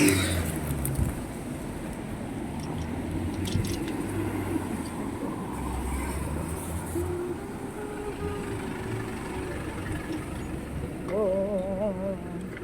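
A bus pulls up at a roadside stop on the way to Kowloon Tong station in Hong Kong, with a low engine rumble and traffic noise that builds slightly, and a brief whine of brakes near the end.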